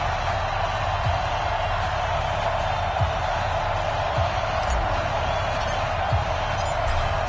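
Stadium crowd noise from a New York Jets football video game on PS4, a steady dense roar of cheering that fills the whole clip without letup, with faint thumps scattered through it.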